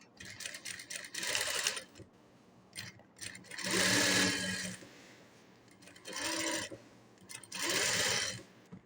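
A sewing machine stitches a wavy practice line in a beginner tailoring exercise while the fabric is turned by hand. It runs in four distinct bursts of rapid stitching separated by short pauses, close and clear.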